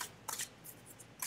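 Quick riffled bursts of a deck of playing cards being shuffled during a game night, crisp and close, in short spurts with brief pauses and no talk.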